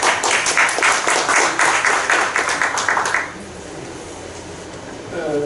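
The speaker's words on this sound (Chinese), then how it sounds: "请掌声欢迎他" Audience applause welcoming a presenter from a toy startup at a maker-to-startup pitch forum: dense, steady clapping for about three seconds, then cutting off abruptly to a quiet room hum.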